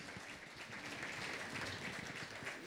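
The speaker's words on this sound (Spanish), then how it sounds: "Les pido un aplauso para ellos." Continuous clapping from a seated audience thanking forum panelists after a corporate governance discussion, an even, dense patter of many hands at moderate volume throughout, with no speech on top.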